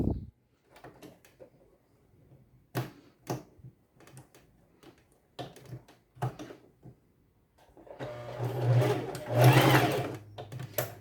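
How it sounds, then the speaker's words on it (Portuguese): A sewing machine runs a straight stitch over elastic on a bodysuit. Scattered clicks and handling noises come first, then a sustained, louder run of stitching near the end. It sounds close, with no voices. "E agora eu vou fazer uma costura reta e vou rebater com o zigue-zague"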